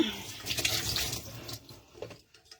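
Hot water pouring from a tap into a sink, a steady close splashing rush that fades and trickles off near the end.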